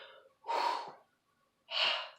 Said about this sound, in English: So it's going to be that breathing in rhythm.